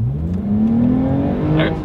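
A 2020 Toyota Avalon TRD sedan's engine revs up steadily as it accelerates hard, pitch climbing continuously, loud and close.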